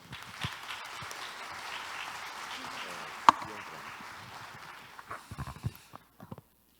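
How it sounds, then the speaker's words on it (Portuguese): Applause from the audience at a Latin American fiscal education congress, moderate clapping that fades into a few scattered claps before stopping. "uma salva de palmas"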